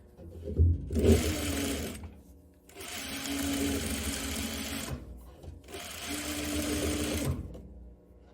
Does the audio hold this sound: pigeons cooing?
no